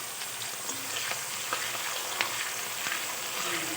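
Onions fry in a pan with a dense, even sizzle and crackle heard close up, with faint clicks of stirring scattered through it and no speech.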